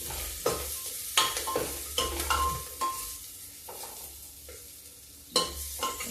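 Fenugreek (methi) seeds are tempered in hot oil in an Indian kitchen, crackling and sizzling steadily while a spoon stirs and scrapes the pan in several sharp strikes.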